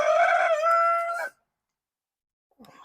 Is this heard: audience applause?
no